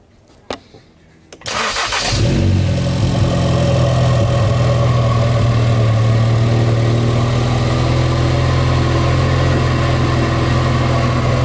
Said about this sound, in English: One good thing is because it's got such a loud exhaust